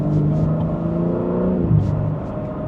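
A BMW G80 M3 Competition pulls away with a close, droning engine hum that climbs in pitch and shifts about two-thirds through. A low rumble sits beneath it, with no talking.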